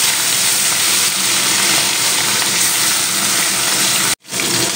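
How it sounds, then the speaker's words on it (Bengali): Fish pieces rubbed with salt and turmeric hit hot mustard oil, giving a loud, steady wash of sizzling and bubbling that holds evenly before a brief sharp dropout near the end. "নুন আর হলুদ মেখে রাখা মাছগুলো ভেজে নেব।"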